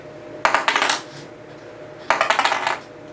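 A die tumbling across a hard surface during a family math game, in two separate bursts of rapid clattering bounces, each rattling for about half a second, close and fairly loud.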